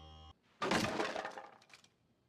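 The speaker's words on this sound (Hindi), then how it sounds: "फिर उन दोनों भाइयों ने दरवाजा तोड़ा" A door is broken down in a horror-story sound effect: a loud, close crash bursts out after a brief tone and decays into scattered rattling debris over about two seconds.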